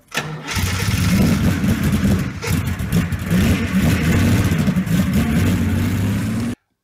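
An ex-British Army Land Rover 90, NATO spec, runs close by with a steady, loud engine rumble and a few throttle blips, then cuts off abruptly at the end.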